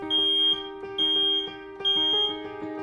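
A smoke alarm sounds three piercing, repeated beeps at a steady rhythm over a continuous droning tone, close and loud, with no voices.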